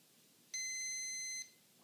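A Dualsky Hornet ESC plugged in for throttle programming gives a single steady electronic beep lasting about a second, clear against a quiet background.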